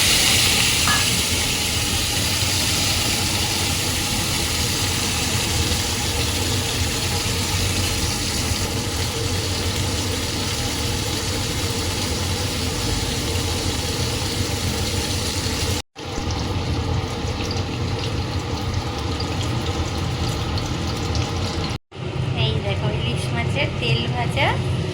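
Hilsa fish frying in hot oil in a home kitchen, a steady broadband sizzle running continuously at close range, briefly cut twice near the end, with a voice talking over it.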